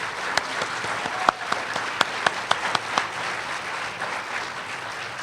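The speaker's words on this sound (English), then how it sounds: "Could you join me in giving all 4 of our advocates a big round of applause tonight?" An audience at a live debate gives a sustained round of applause, a dense wash of clapping with a few sharper individual claps standing out, steady and moderately loud throughout.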